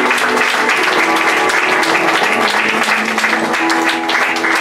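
A church congregation at a Sunday service in Massy-Palaiseau applauds loudly and continuously, a dense sustained clapping from many people in a large room, with music and cheering voices mixed in.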